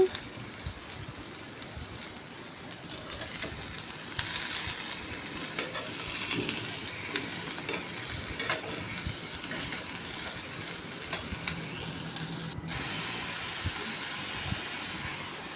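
Tomato pieces and ridge gourd peels cook in a pan for a chutney, giving a long steady sizzle and hiss with occasional stirring scrapes and clicks, close and moderately loud, with no voices.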